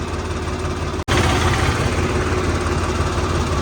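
A tractor engine runs on a village road, a loud, steady, throbbing drone with one sharp break about a second in before the rumble carries on unchanged.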